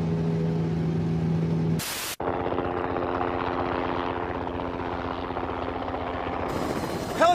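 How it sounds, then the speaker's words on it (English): Helicopter rotors spinning steadily, a loud continuous thrumming drone with a rhythmic beat, broken once by a brief burst of static before the whir resumes. "Helicopter rotors work just like airplane wings."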